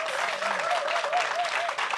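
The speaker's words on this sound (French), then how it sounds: "Ça mérite une belle couverture d'applaudissements" An audience in a French-language televised event in Abidjan applauds steadily, a dense wash of clapping at moderate distance that holds evenly throughout with no talk over it.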